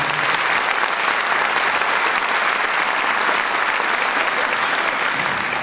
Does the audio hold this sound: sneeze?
no